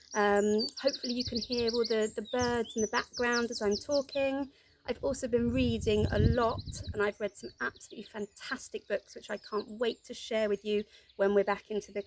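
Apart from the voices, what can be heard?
birds singing in a garden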